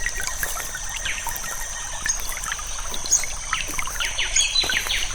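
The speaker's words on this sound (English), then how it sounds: "there's some water up ahead." Water trickles and splashes nearby in a steady babble, with bird calls chirping over it throughout.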